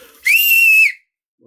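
A small plastic toy whistle from a children's surprise egg gives one shrill, steady blast of under a second, loud and close, then cuts off into silence.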